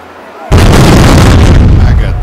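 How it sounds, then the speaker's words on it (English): A sudden loud cannon blast from a ship's left-side cannons in a naval battle video game bursts in after a brief quiet, followed by a heavy sustained rumble with crackling debris. "Fire left side cannons."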